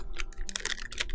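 Stiff, hard plastic packaging of Model Magic clay being handled, a quick close burst of crinkly clicks and taps over about a second, with no talking.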